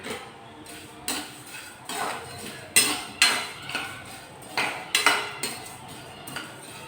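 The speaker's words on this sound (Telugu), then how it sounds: "ముందు ఇలా పోస్తున్నాను. ధనియాలు కూడా కాస్త పోసుకోవాలండి." Coriander seeds being tipped into a pan and stirred for dry roasting to make biryani masala, a series of distinct metallic clatters and knocks against the pan at uneven intervals, close and moderately loud with no speech.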